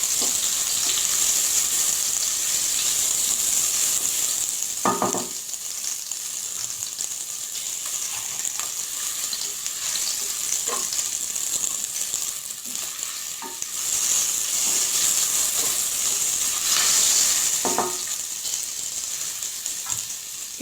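Chopped green chillies fry in hot oil in a pan, a steady loud sizzle that continues throughout, with a few brief stirring scrapes along the way.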